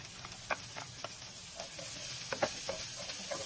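Onions sautéing in a pan for spaghetti sizzle steadily, with spatula scrapes and stirring knocks recurring in an uneven rhythm, close by and alone.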